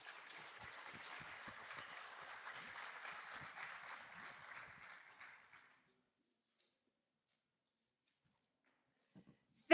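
Audience at a health-care AI conference in Las Vegas applauds panelists, a steady wash of clapping for about five seconds that fades out, followed by near silence and a brief thump at the end.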